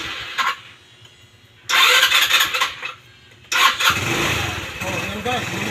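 A Motorstar 125 motorcycle engine is cranked twice with short whirring bursts, then catches and settles into a close, steady idle, with a voice speaking over it.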